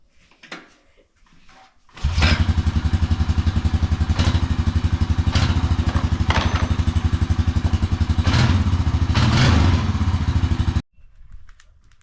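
A Honda Rancher ATV engine with a new exhaust cranks and catches, then runs loud and steady with a rapid rumbling pulse before cutting off abruptly.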